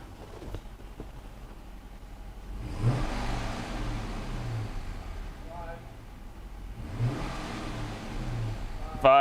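An Audi engine under misfire diagnosis is revved twice in a workshop, each rev rising and falling with a busy mid-range roar over a steady idle, while someone talks throughout.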